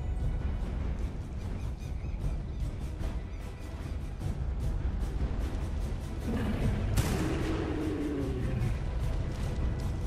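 Repeated gunfire cracks from a modded dinosaur-taming video game, aimed at a T-Rex, over a dense, steady background, with a sharper burst and some rumbling later on.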